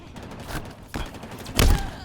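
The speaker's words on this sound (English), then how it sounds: "Already taking damage from that plasma cannon." A plasma cannon firing in the Halo Infinite video game: a few soft blasts and then one loud, heavy thudding discharge near the end, set against continuous game noise.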